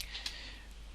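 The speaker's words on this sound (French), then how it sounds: "On clique sur publier le billet." A single quick mouse click on a blog's publish button, faint and close, over a low background hum.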